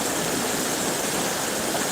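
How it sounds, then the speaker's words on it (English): Broadband rushing water from a shallow, algae-filled stretch of the River Ogmore in South Wales, a steady loud hiss and babble heard close up with no pause. "Currently live today in the middle of the river, Ogmore, South Wales, UK."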